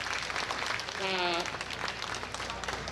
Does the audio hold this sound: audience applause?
yes